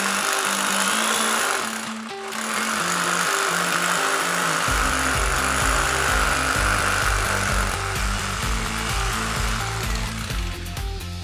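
A power drill boring a hole into a concrete ceiling, a loud continuous whirring grind that shifts pitch and intensity partway through, steady and close, with no voices.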